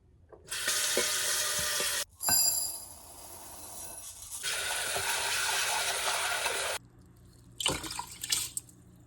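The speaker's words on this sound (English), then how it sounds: "I just like wash rice and then I just pour water into the rice" Water runs from a tap into a container of rice for washing in several bursts, stopping and starting, with splashing and a few clinks between pours.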